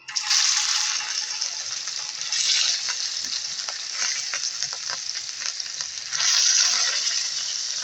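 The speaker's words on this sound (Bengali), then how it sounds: "আমি এখানে মাছটা ভেজে নিচ্ছি" Rohu fish pieces coated in turmeric, chili and salt frying in hot oil, a loud, continuous close sizzle with a few louder bursts, no voices.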